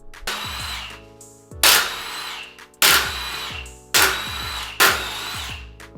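An impact power tool works the wheel off a Pontiac G8 during a coilover install, five loud separate bursts of whirring and rattling hammering, each about a second long with short pauses between them, heard close and without talk.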